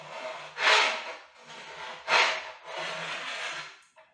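A knife cuts through millionaire shortbread on a baking sheet, making two short crunchy strokes about a second and a half apart. Quieter scraping sits between them, and no one speaks.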